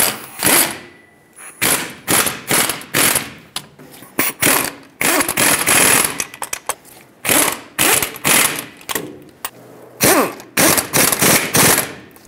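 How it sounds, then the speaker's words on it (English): Ratchet wrench bottoming out the hub mounting nuts on a 1999-2007 Ford F-350 front wheel bearing hub, in a cross pattern: repeated bursts of rapid, loud clicking with short pauses between strokes, close up and without talk. "Start in the mounting nuts. Let's bottom these out in a cross pattern now."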